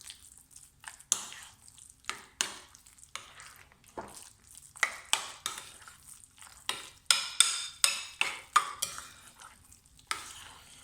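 A spoon stirs chili powder, garam masala and salt through a potato mixture in a pan, making a series of distinct scraping, squelching strokes with short pauses between them, close and fairly quiet with no talking.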